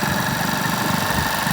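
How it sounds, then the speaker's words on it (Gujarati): A motorcycle engine runs steadily on a highway at night, a continuous close, loud droning hum with slight vibration and no talking. "તો ફાઇનલી જાય છે મહેશભાઈ બાઇક ચલાવે છે, તમે જોઈ શકો છો."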